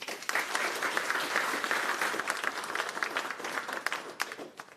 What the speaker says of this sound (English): So a warm applause for Kaja.